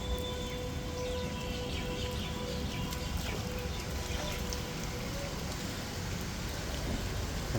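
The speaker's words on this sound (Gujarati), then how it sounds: "અત્યારે ખૂબ સારો એવો વરસાદ પડ્યો છે." Heavy rain pours steadily over a garden, a dense, unbroken hiss of drops hitting surfaces, with faint birds in the background and no speech.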